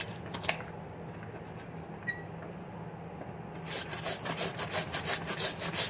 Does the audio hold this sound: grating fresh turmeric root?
yes